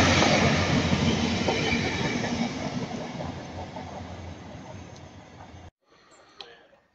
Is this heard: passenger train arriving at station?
yes